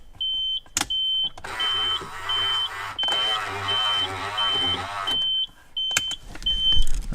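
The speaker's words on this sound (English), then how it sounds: "That's the mirror working." Electric folding mirror motor on a Nissan 240SX S14 whirring in short repeated bursts, each a close mechanical hum with a high tone, interrupted by repeating chime beeps from the car.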